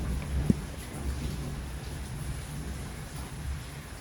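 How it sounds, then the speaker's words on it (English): A storm outside brings steady, dense rain with a low, continuous thunder rumble underneath and one brief sharp crack early on. No one speaks. "And as the storm rages on,"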